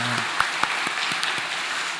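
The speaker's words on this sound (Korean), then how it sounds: "우리 축복의 박수 한번 보내주시면 감사하겠습니다" A church congregation gives a round of applause, with a steady, even bed of clapping and a few sharper individual claps standing out near the start.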